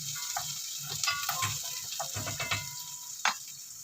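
Garlic frying in a pan for a Filipino meal of daing na bangus and vegetables gives a soft, steady sizzle with scattered light clicks and stirring taps, fairly quiet and close, with no talk.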